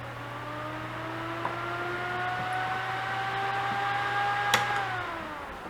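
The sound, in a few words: computer CPU fan spinning up loudly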